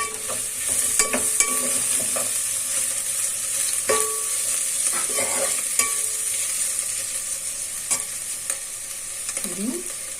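Ginger and shallot paste frying in a pan for coconut rice, stirred now and then, a continuous close sizzle broken by scattered spoon scrapes and taps.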